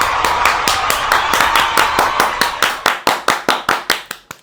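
A group claps in a fast, steady rhythm, close and loud, then slows into separate sharp claps with short gaps between them.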